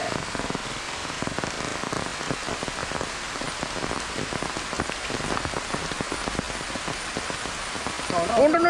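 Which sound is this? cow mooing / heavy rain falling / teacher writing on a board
heavy rain falling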